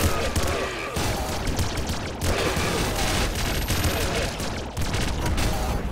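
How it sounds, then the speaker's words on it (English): A flame cannon fires in the video game Nuclear Throne amid a dense, continuous barrage of rapid gunfire-like blasts and booms, loud and chaotic throughout. "Somebody just shot a flame cannon."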